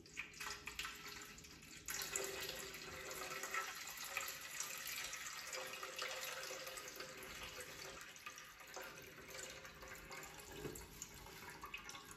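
Thick melted 464 soy candle wax pours steadily into a pitcher in a continuous splashing stream, close by, with no talking.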